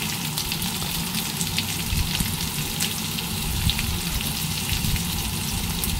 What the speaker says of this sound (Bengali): পেঁপে আর আলুটা ভালো করে ওই তেলের মধ্যেই ভেজে নেবো প্রথমে খানিকক্ষণ